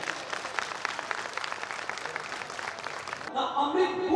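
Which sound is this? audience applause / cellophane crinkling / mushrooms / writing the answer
audience applause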